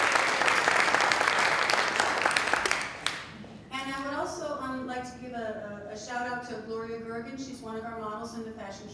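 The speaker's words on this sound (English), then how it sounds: "And so, a round of applause for them." An audience at a Jean Seberg fashion show gives a round of applause for the volunteers, a dense burst of clapping for about three seconds that cuts off as a voice takes over and keeps talking.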